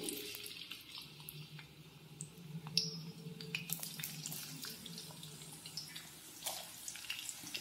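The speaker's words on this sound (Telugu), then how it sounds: "ఆయిల్ అయితే హీట్ ఎక్కింది ఇందులోకి ఆనియన్స్ వేసుకుంటున్నాను" Chopped onions hit hot oil in a pan and sizzle with a crackling, hissing wash, fairly soft and close, with scattered sharp pops and spits over a low background hum.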